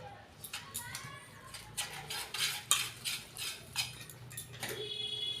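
Stirring rice flour batter in a bowl for Bengali patishapta while water is added bit by bit, giving soft scraping, clinking utensil taps in uneven bursts.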